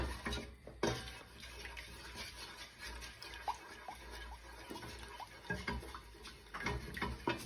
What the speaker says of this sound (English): Don't do anything else until you've mixed all your margarine, all of your sugar together